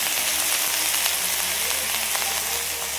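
Pumpkin greens frying in a pan with salt and turmeric, a loud, dense and steady sizzle with soft stirring scrapes underneath, close up and with no talking.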